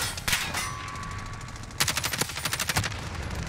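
Gunfire in a Call of Duty Verdansk match: a brief burst early on, then a rapid string of sharp shots with ringing metallic tails from about the midpoint onward, loud against constant game background.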